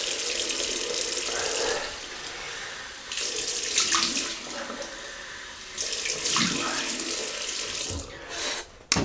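A bathroom tap runs steadily into a sink as alum is rinsed off after a shave, the water stream loud and close, briefly changing pitch as hands pass through it, with a clatter at the end.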